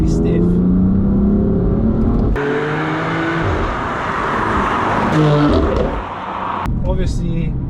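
A powerful 425-horsepower rear-wheel-drive BMW M4 F82 engine roars and climbs in pitch as it accelerates, loud and close, with gear changes and a deep rumble under steady road noise.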